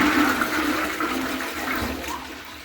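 A toilet with a dual flush button, its small flush pressed, runs steadily with rushing, gurgling water for the whole stretch, close and fairly loud, with no talk.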